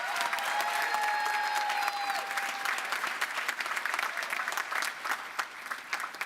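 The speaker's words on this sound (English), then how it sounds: "Another big round of applause, please." Graduates and guests at a university ceremony give a long, full round of applause, dense clapping that stays loud throughout while a faint tone briefly sounds near the start.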